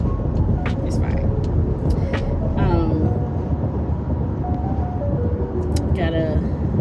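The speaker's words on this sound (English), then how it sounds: "I don't know if y'all guys can hear the road, but I'm driving" Steady road noise rumbles from a car being driven, a constant broadband roar under a person talking.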